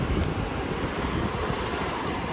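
Ocean surf rolling onto the shore at Hilton Head, a continuous broad wash of waves with wind buffeting the microphone, steady and fairly loud with no voices.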